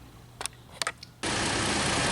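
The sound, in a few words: Dodge Nitro engine running after misfire repair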